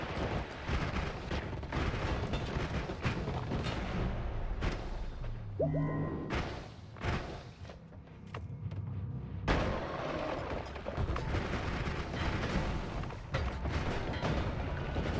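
Gunfire and spell blasts in the pixel-physics roguelike Noita, loud dense bursts of shots and explosive thuds running almost continuously, with a brief quieter gap in the middle before the barrage resumes.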